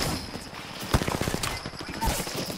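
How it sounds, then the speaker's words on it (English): Gunfire in the video game Apex Legends: a rapid burst of several shots, then a few more cracks, close and fairly loud over game background noise. "Sniper on me!"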